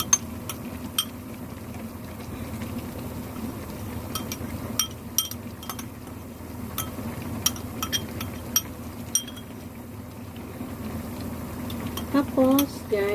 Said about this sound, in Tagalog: pakuluan lang natin hanggang maluto ang ating manok.